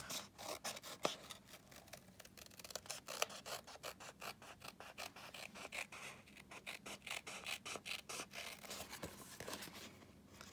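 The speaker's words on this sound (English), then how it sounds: "with my scissors, I'm just going to cut round the envelope flap" Scissors snipping around a paper envelope flap, a quiet, close series of rapid crisp cuts and rasping strokes repeating steadily throughout.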